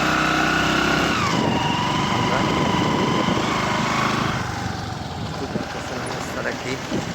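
An engine trawler boat's motor drones loud and close on a river crossing, a steady buzzing hum that shifts pitch once and eases slightly later, with people talking over it.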